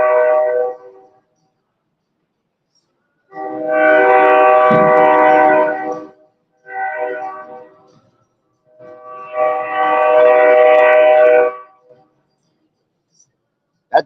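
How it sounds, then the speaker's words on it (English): A train blows its horn in long, loud, harmonic blasts, two long blasts broken by a short one, with the train passing close by and no talking. "That damn train ain't playing right now."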